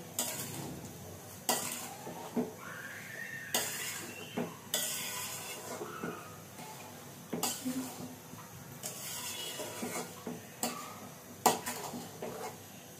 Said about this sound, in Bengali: এবার আমি এটা ভালোভাবে নাড়তে থাকবো